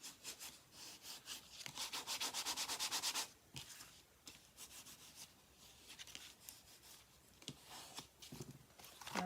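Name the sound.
firmly burnishing paper on a gift box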